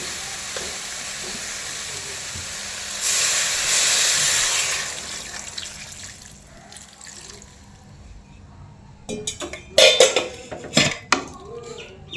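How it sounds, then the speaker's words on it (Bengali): Water poured into a hot pan of moringa drumsticks being cooked sets off a loud hissing burst of steam lasting a couple of seconds, followed by close clinks and clatters of a utensil against the pan. "এবার আমি জল দিয়ে দেবো"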